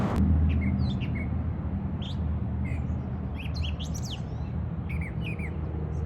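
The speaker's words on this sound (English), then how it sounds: "this bird sounds so pretty, you have to hear it" Outdoors, a songbird sings clear, bright chirps and short whistled phrases in scattered bursts, moderately close, over a low background rumble.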